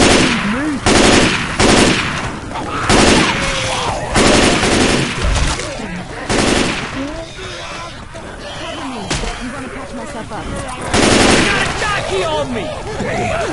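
Rapid bursts of gunfire from shooting enemies in Left 4 Dead 2, loud and repeated in clustered volleys over game noise, with talking in between.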